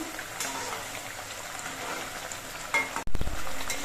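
Sorputi fish cooking in a sour curry in a pan, stirred after the lid comes off: steady close sizzling and scraping that briefly dips, then returns louder.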